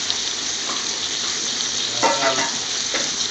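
Scotch bonnet sauce cooks in a pan in a restaurant-style kitchen with a steady, close hiss of sizzling and a few brief stirring scrapes, with no speech.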